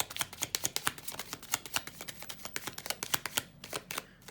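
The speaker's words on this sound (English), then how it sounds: "Whenever I see the heart, I will stop shuffling." Rapid crisp riffling of a deck of tarot cards being shuffled, a long run of quick sharp snaps close to the microphone, alone without any voices.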